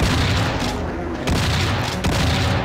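Shotgun blasts in a Doom mod video game, dense loud booming fire with repeated heavy shots and short breaks between bursts.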